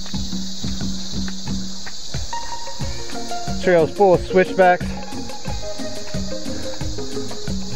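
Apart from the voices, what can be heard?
cicadas buzzing on jungle trail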